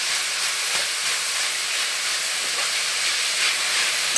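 Onions with salt being stirred and sautéed in a pan over a medium flame for a Kerala-style beef curry, giving a steady, even hiss that runs unbroken throughout, with no talking.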